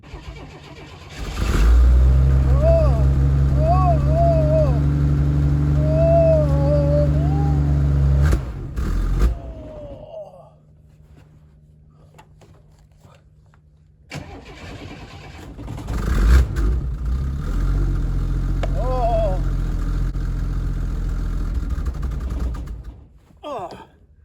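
A Chevrolet Nova engine cranks and fires after a fuel system install, running loud and rough, then cuts out abruptly to near quiet before restarting and revving again, with people talking faintly between.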